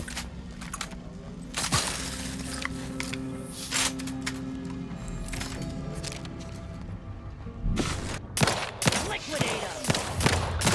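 Shotgun blasts in the Outer Worlds 2 video game ring out as a string of heavy shots spread across the stretch, louder and denser toward the end, with occasional talk mixed in.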